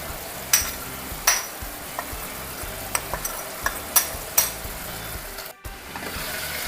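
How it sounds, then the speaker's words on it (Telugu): Chicken pulao with turmeric, chili and garam masala is stirred in a hot pan, a steady sizzle and frying hiss broken by scraping stirs of the spoon, with a brief pause near the end. "ఒకసారి పైన బాగా కలిపేసుకొని పసుపు, కారం, గరం మసాలా కూడా వేసుకొని ఇంకొక 2 నిమిషాలు పెట్టుకోవాలి"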